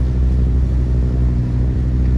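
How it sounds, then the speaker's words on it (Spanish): A ferry arriving at a dock carrying cars and passengers, its deep engine rumble steady and fairly close, continuous throughout with no talk. "ahora sí llega el ferry"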